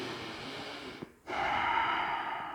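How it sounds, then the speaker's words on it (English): Breathing during a yoga session: a sharp nasal intake, a brief pause, then a long, close, steady exhale. "let's keep breathing here"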